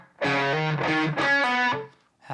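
Electric guitar through an overdrive stage on a Line 6 Helix patch, a few sustained distorted chords played in sequence, loud and close, then fading briefly before a new attack, with no talking.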